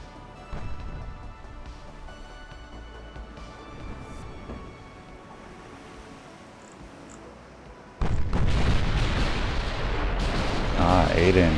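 Eight-inch secondary guns fire in the naval battle game Ultimate Admiral: Dreadnoughts, a low rumbling battle bed that turns into a loud, dense burst of booming gunfire partway through and stays heavy to the end.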